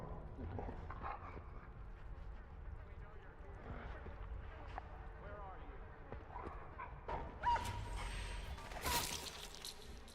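Game dog in Dishonored barking and whimpering, several sharp yips scattered over a busy mix of game ambience and water-side sounds, with someone talking throughout.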